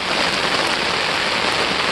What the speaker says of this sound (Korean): 밖에 비가 오고 있고요, 지금.